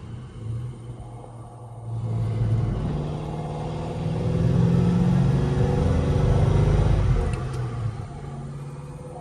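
A 1970 Pontiac GTO Ram Air IV cruises a curvy road, heard from inside. Its low engine rumble swells and eases with the throttle, with no talk.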